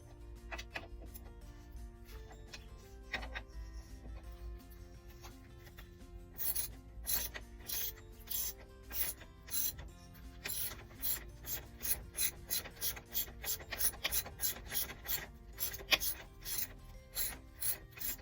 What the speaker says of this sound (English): I find that using these Allen headed sockets really useful, very helpful.